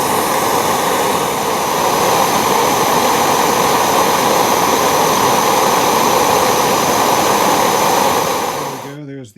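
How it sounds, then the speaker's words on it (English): A torch roars steadily into a makeshift mini forge while blade stock for a mini cutlass heats, a loud continuous rushing hiss that holds for about nine seconds before cutting off abruptly. "using my torch to heat up my makeshift mini forge"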